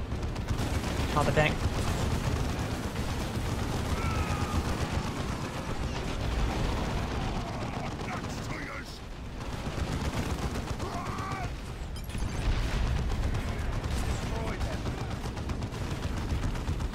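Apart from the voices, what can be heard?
gunfire shooting a platform in Dawn of War II video game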